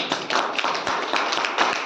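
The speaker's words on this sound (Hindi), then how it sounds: "ताली बजा दो भाई के लिए।" A group of people clapping together for a brother at a Hindi-speaking gathering, a dense, steady patter of hand claps filling the room at moderate volume with no talk over it.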